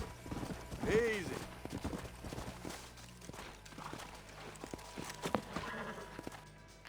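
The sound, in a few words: horses' hooves in video game Red Dead Redemption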